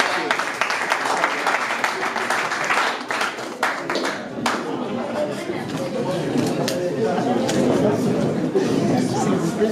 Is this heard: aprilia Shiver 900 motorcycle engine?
no